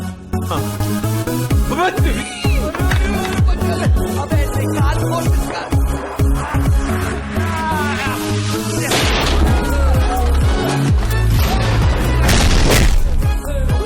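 A film action scene with a gun fight: a loud, dense run of booming gunshots and crashing explosion blasts over a swelling music score.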